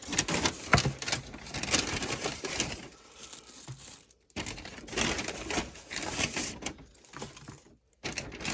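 Craft kit supplies for a kids' fluid art project are pulled out of a bag, making close crinkling and rustling of plastic packaging in bursts with short pauses; no one speaks.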